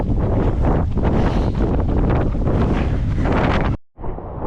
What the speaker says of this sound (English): Oh, the wind keeps changing direction.